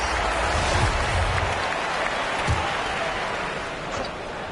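Steady broadband crowd roar with cheering from a simulated NBA 2K23 arena during a Rockets vs. Timberwolves basketball game, continuous and loud throughout with no distinct voices on top.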